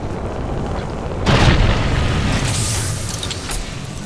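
A Lifeline care package drops into an Apex Legends ranked trios match, landing with a loud booming thud about a second in, followed by a lingering rumble and clatter over steady game ambience.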